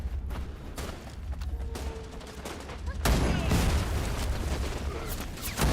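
Gunfire in the shooter game Wild Assault, scattered sharp shots early on giving way to a dense, sustained burst of rapid fire from about midway, fairly loud against a low rumbling background with no clear talk.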